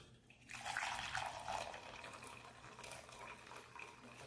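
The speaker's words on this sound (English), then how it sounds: "first thing first is to put our hot water" Hot water pours into a bowl for Kenyan chapati dough, a soft splashing stream that rises at the start then trickles on quietly and continuously, with no talking.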